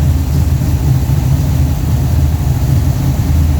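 A factory iron-head Pontiac 455 V8 holds a loud, steady high-RPM rev near 5,000 RPM, a dense continuous roar with a strong low rumble and no speech.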